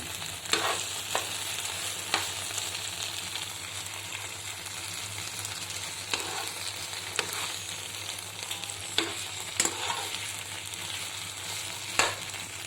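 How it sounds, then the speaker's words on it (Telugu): Ivy gourds (tindora) fry in a pan, a steady close sizzle punctuated by regular scraping and tapping as a spatula stirs them, with a low hum underneath and no voices. "దొండకాయలు ఇలా ఫ్రై అయ్యేంత వరకు వేయించుకోవాలి"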